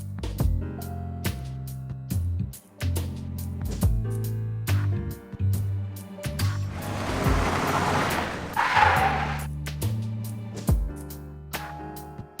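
A car drives up in Persona 4 Arena Ultimax. An engine hum rises and swells into a loud rushing pass before easing back down, with no one speaking.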